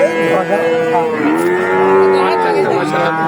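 A Jersey cow at a cattle market in Talgachhi, Sirajganj lets out a long, loud, drawn-out moo close by, one sustained low bellow with a slight rise and fall, and no talking.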